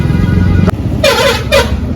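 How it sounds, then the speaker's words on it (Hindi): Trucks pass along a road near a market in Udhampur during Diwali, sounding two loud, close air horn blasts over a continuous engine rumble, with a short sharp knock just before them. "यहाँ पे ना ट्रक जा रहे हैं और इनकी आवाज हो रही है"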